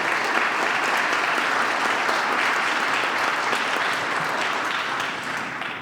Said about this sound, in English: Please give another round of applause to Dr. Noel Trent, Dart, Bob, Ray, and Jonathan.